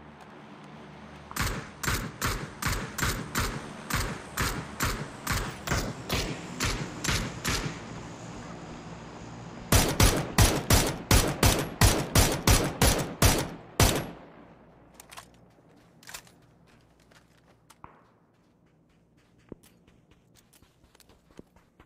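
Rapid gunfire in the battle royale game PUBG: a fast string of loud, sharp shots, a brief pause, then a second tight burst, followed by scattered fainter distant shots and small clicks.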